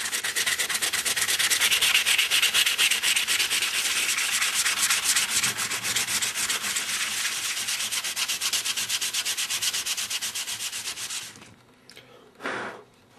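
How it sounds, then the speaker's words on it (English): Fine sandpaper rubs over the plastic of a foregrip in fast, rhythmic strokes, loud and close. It stops near the end, then one last short pass follows. "So we're just going to take this and sand right over."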